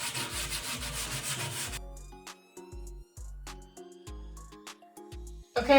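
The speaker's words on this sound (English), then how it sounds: "So I just wanna go over it really quickly with some sandpaper and make sure it's smooth." Sandpaper is rubbed lightly over a wooden hutch in quick passes. A rough scratchy hiss comes first, then gives way to a string of short, separate strokes, close by and with no talk.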